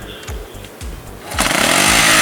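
A 1973 Honda CB 125 motorcycle pulls away in first gear: close, steady low engine thumps, then a sharp rise into a loud, buzzing rev that holds to the end.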